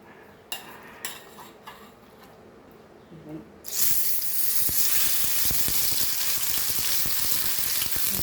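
Ridge gourd peel dropped into a tablespoon of oil over low flame, a few clinks first, then a sudden, steady close sizzle that continues to the end.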